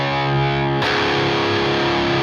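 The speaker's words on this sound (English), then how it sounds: "put the distortion on, down tune" A heavily distorted, down-tuned electric guitar riff plays a thick sustained chord, then shifts into a choppy rhythmic pattern of palm-muted notes, loud and dense, with no talking.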